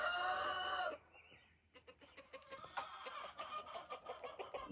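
Close by, a rooster finishes a loud crow, then clucks softly in a quieter, uneven run of short calls on a farmyard morning.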